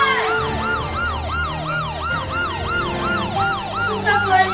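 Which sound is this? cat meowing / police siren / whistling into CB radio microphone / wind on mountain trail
police siren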